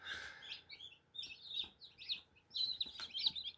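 Newly hatched chicks peep in an incubator, with faint, high, overlapping chirps repeating steadily throughout.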